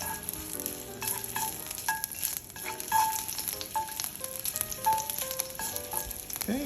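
Pieces of ginger sizzling in hot oil in a Le Creuset tagine pot, a continuous close crackle and hiss with bursts of stirring, alone without talk.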